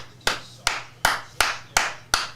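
Six sharp hand claps at a steady, unhurried rhythm, close and fairly quiet, with a low background hum while someone watches a Yankees vs. Braves baseball game.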